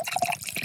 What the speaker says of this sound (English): Look, I'm pouring it the wrong way still.